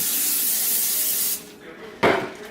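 A steady cooking oil spray hisses onto tortillas for over a second, stops, then a short second burst follows, loud and close.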